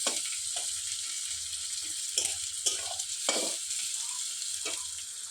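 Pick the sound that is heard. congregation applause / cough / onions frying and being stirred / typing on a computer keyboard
onions frying and being stirred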